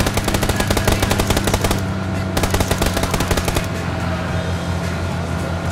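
Rapid automatic gunfire in the video game PUBG, rattling in sustained bursts with short pauses between strings of shots, loud and close.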